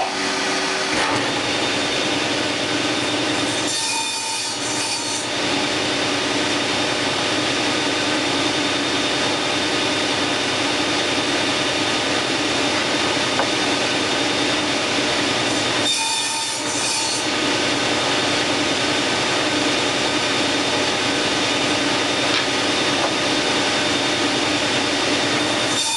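A table saw fitted with a sled cuts the top ring of a segmented wooden bowl while a dust-collection air system runs, producing a steady, loud, close roar that dips briefly twice.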